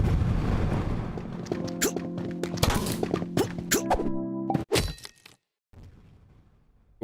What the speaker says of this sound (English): I know, like there's like massive explosions.